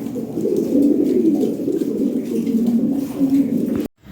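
Lahori Sirazi pigeons coo close by in a low, continuous rolling drone that carries on without pause until it cuts off abruptly just before the end.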